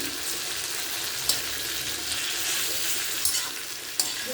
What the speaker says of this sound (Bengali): সবজিগুলো ভালো করে ভাজা হয়ে গিয়েছে